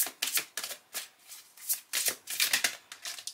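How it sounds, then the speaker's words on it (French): Astrology oracle cards being shuffled by hand in a quiet room, a steady series of crisp riffling, slapping strokes, close and fairly soft, with no talking. "on va commencer tout de suite avec l'oracle astrologie de la lune noire"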